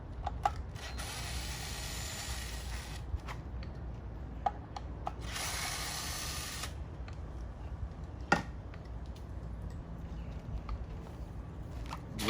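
A ratchet backs out two 10mm bolts on a Yamaha injector driver, heard up close as scattered clicks and scraping rubs, with a longer buzzing ratchet run in the middle and a sharp click near the end.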